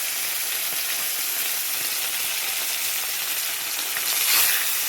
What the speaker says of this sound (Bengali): চলো এবার মাছগুলোকে আমি ভেজে নেব